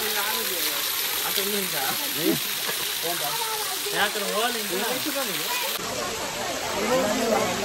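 The Paladhara Panchadhara waterfall at Srisailam keeps up a steady, continuous rushing roar under ongoing talk.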